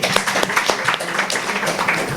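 An audience at a meeting or formal gathering applauds, a dense steady patter of many hands clapping with no pause, loud and close throughout.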